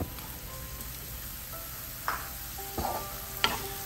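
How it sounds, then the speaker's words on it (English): Grated khoya stirred into melted ghee in a pan for kalakand sweets, soft scraping and a few distinct spoon knocks near the end over a faint steady hiss, no voices. "So next I'm going to add the grated"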